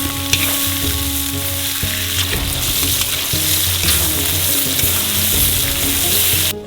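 Onions fry loudly in hot oil in a cauldron for Uzbek pilaf, a dense, steady sizzle filling the whole stretch, close and continuous, with a persistent tonal hum from nearby equipment beneath it.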